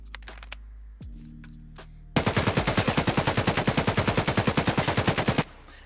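Sustained burst of full-auto fire from an AK rifle in the shooter game Escape From Tarkov, a rapid steady rhythm of loud close shots lasting about three seconds, preceded by a few faint clicks and handling noises.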